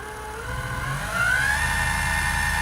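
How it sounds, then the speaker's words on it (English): An Emco Unimat SL-200 lathe with a servo motor upgrade runs its spindle at the slowest speed, 60 RPM, giving a steady close-up motor whir with a faint rising whine and a light, even mechanical pulse. "Slowest speed, 60 RPMs on the spindle."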